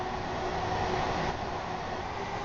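Steady electric rumble of a Class 801 electric multiple unit in Train Sim World 4 on the East Coast Main Line, a constant rolling hum with no talking, even and continuous.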